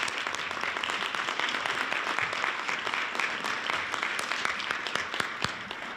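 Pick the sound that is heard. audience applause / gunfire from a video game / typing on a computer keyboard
audience applause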